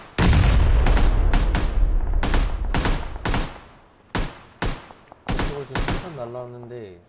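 Explosions and gunfire crack through a battle royale game match, a dense volley of loud blasts in the first few seconds followed by scattered sharp bursts, with players talking over the fighting.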